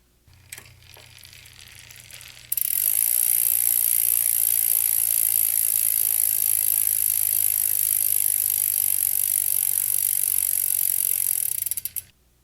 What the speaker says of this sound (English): That's the sound of a nicely lubricated chain.